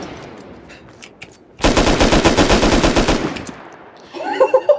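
Rapid automatic gunfire in a video game, a loud sustained burst of evenly spaced shots lasting over a second, with scattered quieter game sounds before and after.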